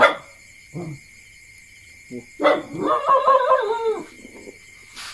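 A dog howls in a rising, wavering drawn-out cry after a few short yelps, fairly close, with quiet gaps between the calls.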